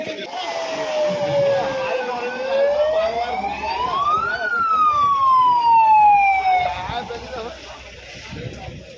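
During a blackout mock drill, an ambulance siren wails loud and close, sweeping slowly down, up and down again over a murmuring crowd and a rumbling engine.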